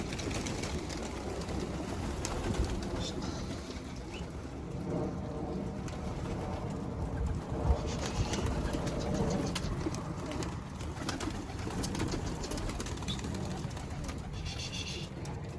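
Dolapçı pigeons coo and flutter up close in a coop in a dense, continuous murmur, with a steady rain-like patter underneath.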